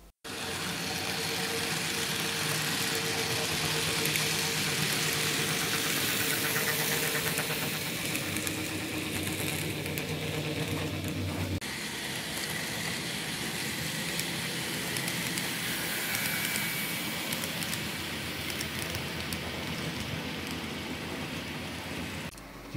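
A small N-scale model train locomotive motor runs steadily with a continuous whirring hum and rattling rumble, loud and close, with no speech.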